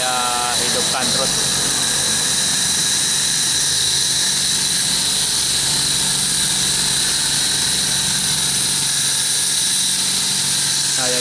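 Two oil-less air compressors, joined together and running nonstop, make a loud, steady mechanical drone that continues without break. A voice speaks over it.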